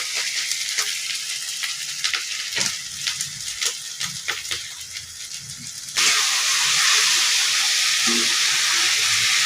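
Ginger and garlic sizzle steadily in hot oil in a pan, a close crackling hiss that jumps noticeably louder and denser partway through and stays loud to the end.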